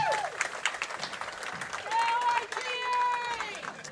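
Applause from a crowd at a state championship bowling match, the Wisconsin Division I girls team final, with cheering and whistles over a hubbub of voices, steady and fairly loud throughout.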